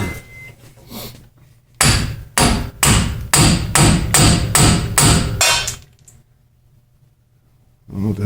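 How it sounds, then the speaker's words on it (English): A ball peen hammer strikes a metal pickle fork on a 2013 Ram 1500 in a steady series of about nine sharp, ringing blows, close by, with a low hum underneath and no speech. "just get a hammer. Ball peen hammer works good for this."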